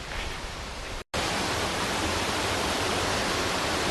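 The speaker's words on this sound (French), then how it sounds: "Donc elle est là la cascade." Steady broadband roar of a waterfall on Koh Samui, Thailand, filling the whole clip with constant rushing water, broken only by a brief dropout near one second.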